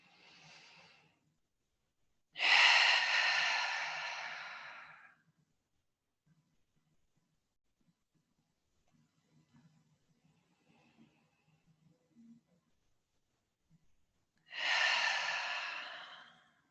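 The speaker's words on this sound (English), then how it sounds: "for 2 more breaths." Slow, deep breaths during a trauma-informed yoga practice: a short breath, then a long, audible exhale, a quiet pause, and another long exhale, close and alone.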